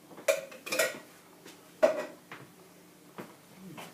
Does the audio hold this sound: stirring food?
yes